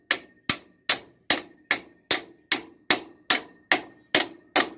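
Twelve evenly spaced hammer blows drive an axle bearing into the axle tube of a 1992 Dodge D150 pickup, each a sharp metallic strike with a brief ringing tail, close and loud with no talking.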